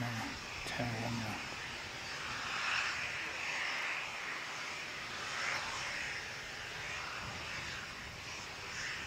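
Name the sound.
airplane taking off to Hamilton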